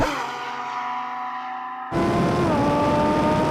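A Lamborghini Sterrato launches in a drag race against a Porsche 911 Dakar: a quiet, steady idle suddenly bursts into a loud, sustained engine roar as the car accelerates hard.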